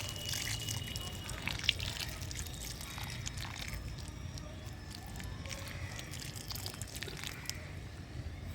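Water poured into a potted periwinkle (vinca) plant drains out through the soil as a soft, continuous trickle and drip, faint and close, with no talking.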